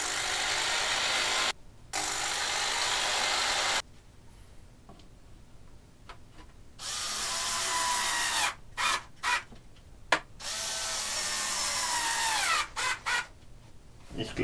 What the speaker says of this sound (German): noch zwei Befestigungslöcher bohren für zwei letzte Schrauben